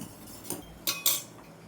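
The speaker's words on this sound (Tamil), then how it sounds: "பால் நல்லா காஞ்சிருச்சு. சவரிசியை போட்டுக்கலாம்." Washed sago spooned into boiled milk in a pan for paal payasam, heard as two sharp metallic spoon clinks against the pan's rim, a softer tap just before, with no talking.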